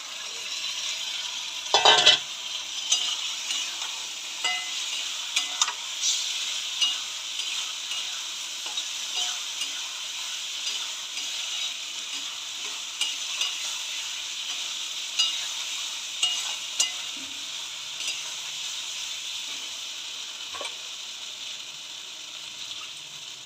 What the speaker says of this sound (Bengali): এবার এই যে ভাজা বেগুনটা দিয়ে দেবো